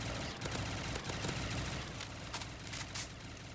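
Sustained P90 submachine gun fire in Black Ops 3 Zombies, a dense, continuous stream of rapid shots from close range without pauses.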